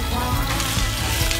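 Button mushrooms hit a hot wok, giving a loud, dense, continuous sizzle close by with no pauses.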